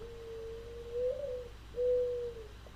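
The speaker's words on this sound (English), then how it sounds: "You hear this bird?" A lone bird calls outside at night, giving a few soft, drawn-out hooting notes in a slow rhythm over a low background hum, fairly faint and at a distance.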